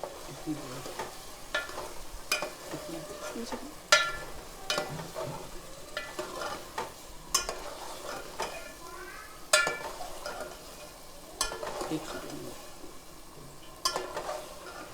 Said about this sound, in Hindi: अब दही डाल के हम इसको भूनेंगे अच्छे से।